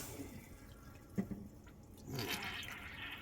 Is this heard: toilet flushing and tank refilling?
yes